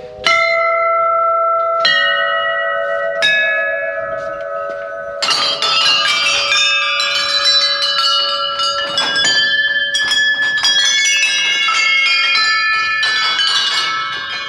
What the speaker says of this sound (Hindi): साउंड सुनाई देगी यहाँ पर आपको, और इसमें बहुत ही घंटियाँ हैं देख सकते हैं आप, पूरे मंदिर में घंटी घंटी है यहाँ पर